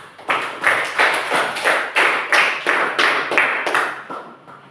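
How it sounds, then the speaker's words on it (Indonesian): Students in a classroom clap together in a group round of applause, a rhythmic series of slightly uneven bursts that starts abruptly, stays close and moderately loud, then tapers off near the end. "Oke, tepuk tangan dulu."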